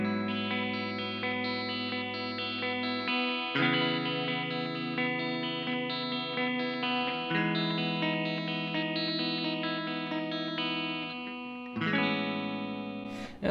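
Twinkly emo-style electric guitar chords in standard tuning ring out clearly and alone, sustained and layered with chorus-like shimmer, changing chord shapes every few seconds.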